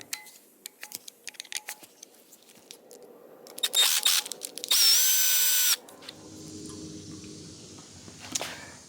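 A power tool loosens fuel pump housing screws on a 1978 Malibu Classic 350 Chevy engine, with a sharp, loud whirring burst lasting about a second close by, set among scattered clicks and handling noises.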